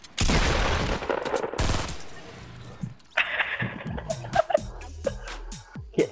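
Rapid bursts of gunfire in Fortnite Battle Royale crack out in quick succession, loud and close, followed by scattered lighter shots and game effects.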